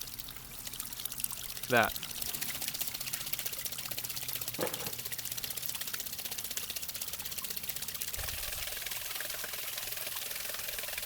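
A waterwheel from a microhydro installation turns its paddles through flowing water, giving a steady rushing wash throughout, with someone talking briefly over it.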